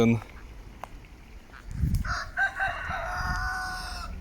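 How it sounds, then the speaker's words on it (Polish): Roosters crow in the distance near Schöllkrippen, Bavaria, during a bicycle ride, several overlapping calls rising and holding, while footsteps or rustling move nearby against an outdoor background. "te koguty"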